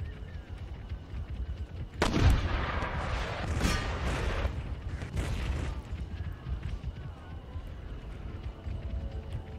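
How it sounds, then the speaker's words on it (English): Artillery fire in the Empire Total War strategy game: a sharp cannon boom followed by scattered distant volleys and battle rumble, moderately faint, with little talk. "Focus fire them with artillery."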